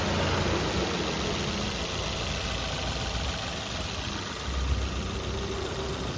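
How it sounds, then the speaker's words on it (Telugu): A used car's engine idles steadily just after being started, a close, even mechanical hum and rumble with a faint vibrating texture and no voices. "వెహికల్ స్టార్ట్ చేశానండి, ఒకసారి ఇంజన్ కూడా చెక్ చేద్దాం మనం"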